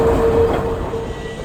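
A Pilatus cogwheel train rolls into the station with a steady rumbling, mechanical drone and a thin tonal whine, close and continuous throughout, with no voices.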